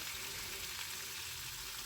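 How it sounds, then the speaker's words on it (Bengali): Cauliflower pieces frying in hot mustard oil, a brief, steady, soft sizzling hiss with no voices. "সর্ষের তেল গরম হয়ে গেলে একটু নুন ফেলে দিয়ে ফুলকপিগুলো হালকা করে ভেজে তুলে নেব"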